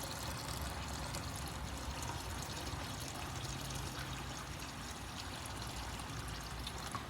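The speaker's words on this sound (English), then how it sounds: "I'm just going to pour it to a strainer into a bowl." A steady, soft stream of homemade chicken soup pours through a strainer into a bowl and trickles continuously, quiet and close, with no voices.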